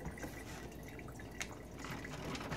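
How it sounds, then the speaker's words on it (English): Tap water runs steadily over hands being rinsed at a sink to wash off sticky rice, a soft continuous splash with occasional drips, close and fairly quiet. "Wash off my hands good."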